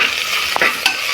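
Biryani masala sautéing in a pan for a quick empty biryani, with a steady close sizzle and two brief scraping stirs of the spoon against the pan.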